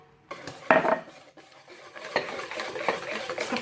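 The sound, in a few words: stirring oil, orange zest and juice into cake batter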